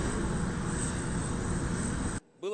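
A fixed-wing aircraft carrying humanitarian aid departs Heydar Aliyev International Airport in Baku for Warsaw, a loud sustained engine roar that cuts off abruptly near the end.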